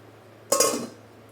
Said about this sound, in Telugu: దీన్ని మూత పెట్టేసుకుందాం.